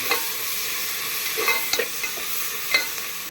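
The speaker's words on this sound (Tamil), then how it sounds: "இப்போ புதினா போட்டுக்கலாம் நல்லா வேகட்டும்" Mint leaves frying and being stirred in a pan for chicken biryani, a continuous close sizzle broken by a few sharp spatula scrapes and taps.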